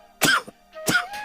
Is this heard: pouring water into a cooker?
no